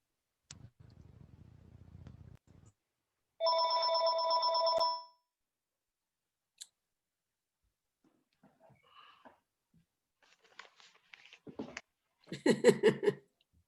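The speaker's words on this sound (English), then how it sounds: "And just then my phone rang." A telephone rings during a remote trustees meeting: a low muffled buzz, then a loud, clear electronic ring of about a second and a half, followed by scattered faint clicks and a short burst of another ring-like tone near the end.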